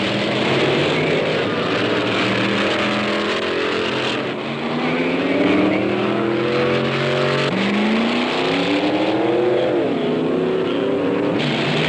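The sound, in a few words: hot rod drag racing car engine during run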